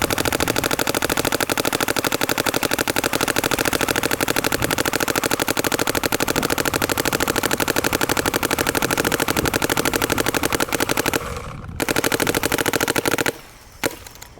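A Planet Eclipse Gtek 180R paintball marker fires in a fast, continuous rapid stream of pops, loud and close, running for over ten seconds before stopping briefly, then ending.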